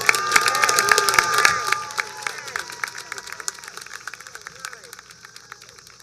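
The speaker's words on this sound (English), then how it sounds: "Let's give her another round of applause." Crowd applause and cheering at a class of 2021 graduation ceremony, starting loud with dense clapping and gradually thinning to scattered claps, under some talk.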